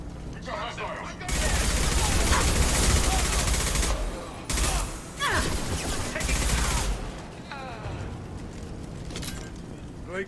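Sustained bursts of automatic weapon fire from the Mass Effect 2 video game, dense rattling volleys that start and stop in several bursts with explosive booms, loud and close, with voices speaking over the combat.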